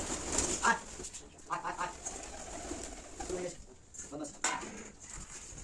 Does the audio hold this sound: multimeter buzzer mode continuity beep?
no